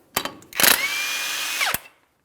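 An impact wrench removes the lug nut holding the rotor on a 2007-2014 GMC Sierra 2500 HD truck during a front brake job, a brief tap then a single sustained whirring burst of about a second, close and loud.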